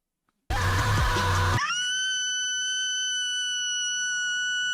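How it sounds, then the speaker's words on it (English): A woman screams loudly from a played video clip, a sustained harsh shriek lasting about a second before cutting to a steady high electronic tone that holds to the end. "The screaming clips there continue for another 30 seconds."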